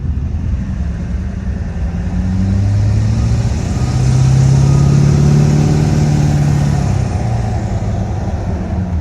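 A Chevrolet LB7 Duramax diesel pickup still warming up runs with a deep, steady rumble, its tone swelling briefly as the throttle is blipped and then settling back, loud and close with no talking.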